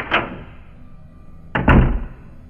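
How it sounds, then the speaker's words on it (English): A room door in an animated horror story opens and closes: a short creaking click, a pause, then a heavier thud as it shuts, close and clear with no talk. "I hear the door to his room open and close"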